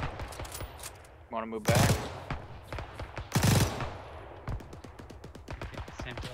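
World War II–era gunfire in the video game ArmA 3 rattles in two loud, close bursts over a steady crackle of more distant shots, while players talk over the radio throughout.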